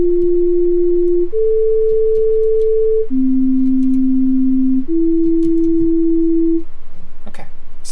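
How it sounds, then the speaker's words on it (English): Pure synthesizer sine tones hold steady in four sustained steps, each pitch shifting up or down in turn, loud and clean with no other sound around them. "that sure is a sine wave"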